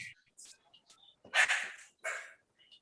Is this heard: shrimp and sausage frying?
no